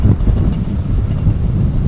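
Strong wind buffets the microphone at a riverside spot in Matale, Sri Lanka, making a loud, continuous rumbling roar with gusty surges and no speech over it.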